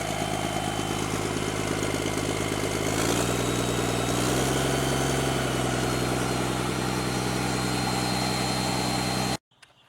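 A vintage Rolls-Royce Eagle diesel engine running steadily, a loud, even low rumble that holds for several seconds and then cuts off abruptly.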